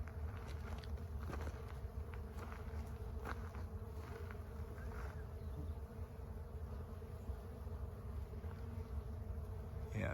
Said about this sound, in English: Oh, you can hear the bees.